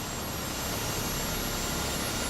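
A helicopter's engine heard from outside in MSFS 2024 gives a steady, even broadband whine and roar with no breaks, moderately loud and alone.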